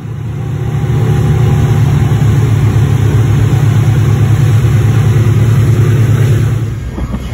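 Twin Mercury 150 HP four-stroke outboard engines run for break-in, giving a loud, steady low drone that swells in over the first second, holds evenly, then drops off near the end.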